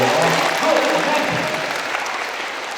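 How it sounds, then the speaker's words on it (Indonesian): Audience applause at a motivational seminar held at an Islamic boarding school, a dense, steady wash of clapping from a large crowd that holds strong throughout and eases slightly toward the end. "Tepuk tangan buat beliau ya."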